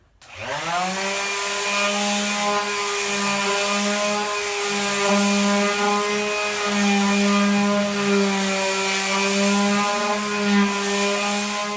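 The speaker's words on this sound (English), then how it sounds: "with some 60 grit paper and just smoothing everything out" A power sander runs on a wooden toy box with 60 grit sandpaper, giving a loud, steady motor whine with a buzzing tone that holds almost unchanged after starting up.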